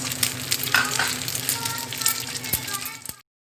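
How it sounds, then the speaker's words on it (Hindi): An egg frying in a pan with red chili flakes and salt, a steady crackling sizzle with a few sharp clicks of a utensil, close and moderately loud before cutting off abruptly near the end. "तो ये अंडा मैं फ्राई कर लूँगी।"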